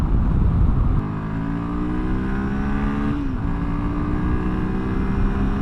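A Royal Enfield Himalayan 450 single-cylinder motorcycle accelerating hard on a desert ride, its engine note climbing steadily in pitch through two gear changes, loud and close with rushing wind noise.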